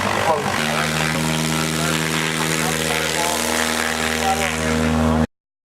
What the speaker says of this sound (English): plane is landing right coming to a boat